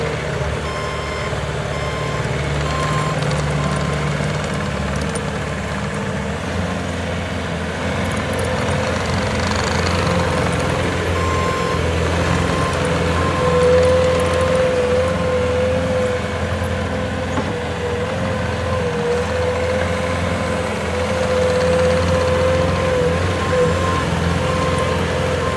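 A 2015 Bobcat T590 skid steer idles steadily with a continuous low engine rumble, close and loud throughout, with a thin high whine and faint repeated beeping over the drone.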